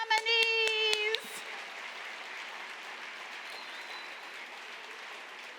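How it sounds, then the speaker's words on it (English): An awards-ceremony audience applauds the year's nominees, a steady, fairly distant patter of clapping that follows a brief burst of a higher, tonal voice-like sound at the start. "show your congratulations with thunderous applause for this year's deserving nominees"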